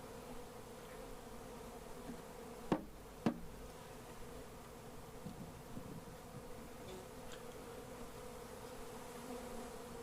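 Honey bees from a colony cut out of a rotten tree hum steadily inside a ten-frame hive, a soft continuous drone broken by two sharp knocks early on.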